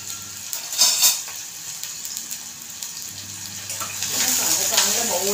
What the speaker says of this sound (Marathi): कांदा चांगला आपल्याला परतून घ्यायचं